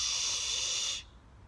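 Young voices imitating a kitten with a long breathy hiss lasting about a second before cutting off, fairly faint and heard on its own.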